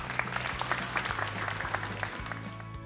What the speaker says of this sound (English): So maybe a round of applause for them.